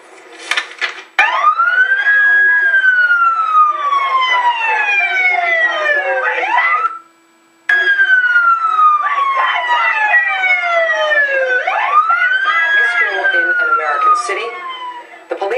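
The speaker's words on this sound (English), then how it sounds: "Turned on the sirens of their police cars to drown out the girls' voices" Police car sirens wail loudly close by at a student sit-in, sweeping up and down in long rising and falling cycles, cutting out briefly before the wailing resumes.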